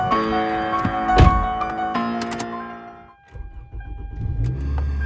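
A Toyota being started after a bad starter was fixed: a loud clunk and starter whir, then the engine catching and settling into a low idle, close by.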